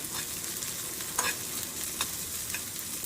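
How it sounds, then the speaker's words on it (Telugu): Onion frying in a pan for peanut chutney gives a steady close hiss and sizzle, with a few soft scraping stirs cutting through and nobody speaking. "పల్లీ చట్నీకి ఆనియన్ వేయించుకుంటున్నాను"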